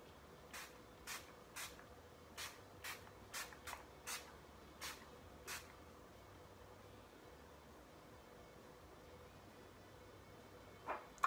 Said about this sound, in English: I take my setting spray now